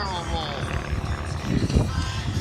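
Biplane engines drone steadily during formation aerobatics at an air show in Grande Prairie, Alberta, a continuous propeller hum that swells slightly toward the end, with a voice speaking over it.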